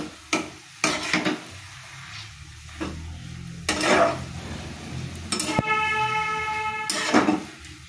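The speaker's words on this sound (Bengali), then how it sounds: "এবার এটাকে আমি একটু নাড়াচাড়া করে ঢেকে দেবো" Bottle gourd greens being stirred in a pan, a few sharp scraping strokes and clanks against the metal spaced between quieter stretches, with a soft cooking hiss underneath.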